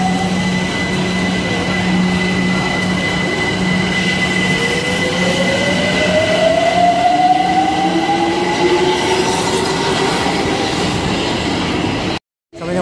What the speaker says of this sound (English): These are some nice trains.